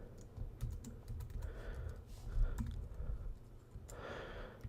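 Computer keyboard typed on at a desk while entering a command, a quick irregular run of soft clicks and taps, close but fairly quiet, with faint breathing.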